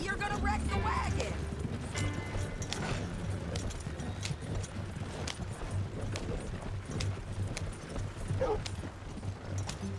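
A horse-drawn wagon in Red Dead Redemption 2 rolls along with steady, rhythmic clip-clopping hooves over a constant low rumble, with faint voices in the background.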